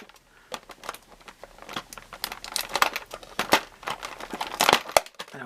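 Scissors cut through the plastic packaging of a NECA Ultimate Dracula action figure, with close, irregular crinkling, crackling and sharp snips that grow busier and louder as the cutting goes on.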